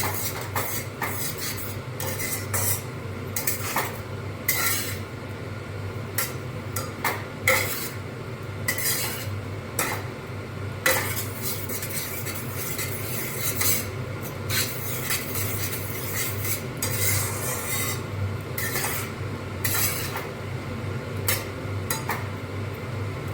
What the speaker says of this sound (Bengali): এবার আমি মশলাটাকে ভালো করে মিশিয়ে নেব